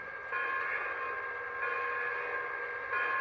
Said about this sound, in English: Beautiful bell sound there.